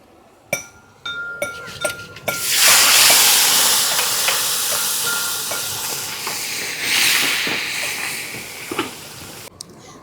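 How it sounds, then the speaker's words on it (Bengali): Fish dropped into hot mustard oil in a wok: a few clinks first, then a sudden loud hissing sizzle that swells and settles into a steady spatter, with a second surge and scattered pops and clinks. "তো এবার আমি মাছগুলো ভেজে নেব"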